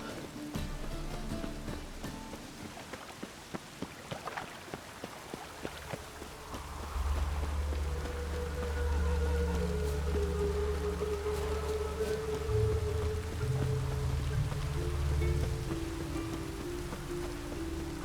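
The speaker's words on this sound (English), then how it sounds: "Even the rain smells different here." Rain falls steadily in the fantasy world of The Witcher 3: Wild Hunt, a soft pattering wash that swells noticeably partway through and stays dense, joined by low rumbling ambience with no voices.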